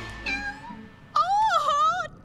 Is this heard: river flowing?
no